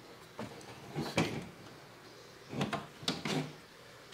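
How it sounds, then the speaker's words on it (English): A plastic jail cell door on a vintage 1975 Mego Planet of the Apes Forbidden Zone Trap playset is worked open, giving a few short clicking and scraping knocks spaced over several seconds, fairly quiet and with no talking. "And you got your opening jail cell door."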